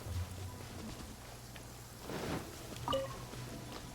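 Steady nighttime rain over Liyue Harbor in Genshin Impact, a soft continuous patter under a low ambient hum, with a few faint brighter splashes and chimes drifting in.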